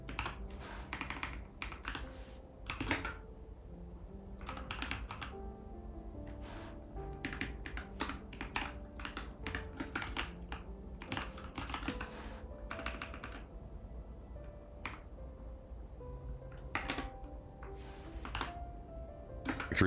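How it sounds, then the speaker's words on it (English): Someone types a command on a computer keyboard in Kali Linux: rapid clusters of crisp key clicks with brief pauses, close and fairly quiet, continuing steadily throughout. "By typing cd/user/share/John."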